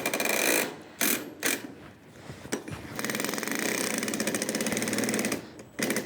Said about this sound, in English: we got these bad boys from Harbor Freight, which are just an aluminum ratchet strap, right?